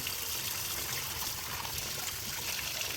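Water rinsing soil off freshly dug lotus tubers, a steady close trickling and splashing flow without pause.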